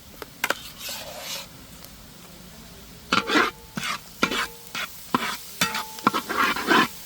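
Ginger garlic paste stirred and frying in a pan, with a steady low sizzle under a series of close, scraping stir strokes that come in rhythmic bursts.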